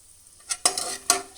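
Peanuts roast in a few spoons of oil in a pan for veg pulao, heard as a few quick sizzling stirs and scrapes over a brief, quiet moment.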